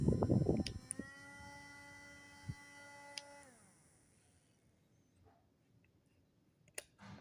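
A small rechargeable electric fan, charged by a mobile phone charger cable, starts with a few clicks, hums with a steady motor whine for a few seconds, then winds down to quiet with scattered clicks.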